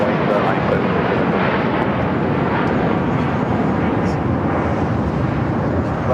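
Airliners at Los Angeles International Airport (LAX) produce a loud, steady roar of jet engines that fills the whole stretch without a break, with faint talk in the background.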